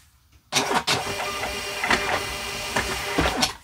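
A label printer runs at close range, whirring and clicking steadily as it feeds out a label, with a few sharper mechanical clacks along the way and no voices.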